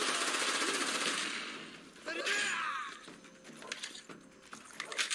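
Rapid automatic gunfire from the video game Call of Duty Black Ops rattles in dense bursts, loud at first, then breaks into scattered shots and clatter toward the end.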